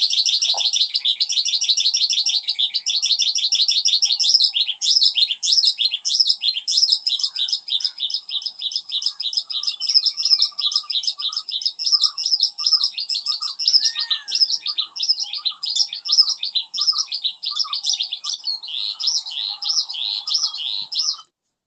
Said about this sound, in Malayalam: ഓറിയന്റൽ സ്കൈലാർക്ക് എന്ന് പറയുന്ന വാനമ്പാടി പക്ഷിയുടെ ബ്രീഡിംഗ് ഡിസ്പ്ലേ ആണ് ഇത്